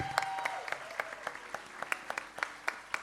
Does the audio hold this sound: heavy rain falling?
no